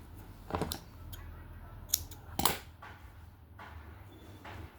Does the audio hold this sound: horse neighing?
no